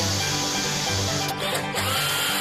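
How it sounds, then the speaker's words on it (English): A handheld power drill spins in reverse with a small bit, a continuous whirring motor drone with a steady pitch and a brief dip and change in tone midway, heard close with no talking. "with his drill in reverse, he's more likely to start a smoldering fire than he is to cut a hole"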